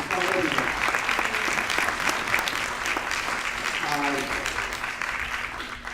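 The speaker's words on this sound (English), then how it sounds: "So I'd like to applaud you for that on stage." Applause from an audience at a panel on saving America's wild horses, dense and steady clapping through the whole stretch, with a few voices faintly audible underneath.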